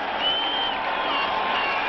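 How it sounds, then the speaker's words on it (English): A fired-up stadium crowd cheers and applauds throughout at a 1988 Giants at Eagles football game in Philadelphia, a dense, steady roar with no pauses. "this is a fired-up crowd here tonight"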